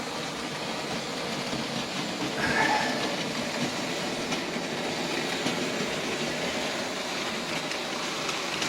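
A small OO gauge Hornby Dublo three-rail N2 model train rumbles steadily along a track with a continuous clattering hum and faint rattles, no voices.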